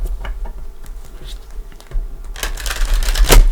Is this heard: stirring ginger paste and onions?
no